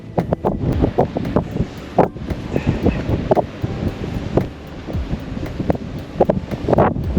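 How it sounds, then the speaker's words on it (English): Strong coastal wind buffets the microphone in gusty roaring bursts, with sand blowing along the shore and surf in the background. "This wind is so strong, it's taking my breath away"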